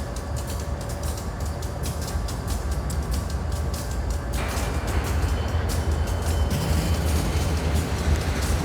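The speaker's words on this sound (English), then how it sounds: "found a few sound effects of trains" A train rumbles steadily with a rhythmic clickety-clack of wheels on rails, growing slightly louder partway through, with no voices.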